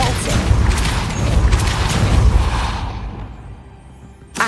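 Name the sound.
Depulso spell cast in Hogwarts Legacy video game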